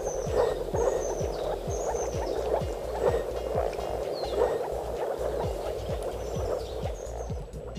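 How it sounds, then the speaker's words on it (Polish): Frogs croak repeatedly in a dense, overlapping chorus, steady throughout, with occasional higher calls drifting in from a distance. "Wiąże się to również ze zdolnością do wydawania określonych dźwięków, określanych mianem żabich rechotów."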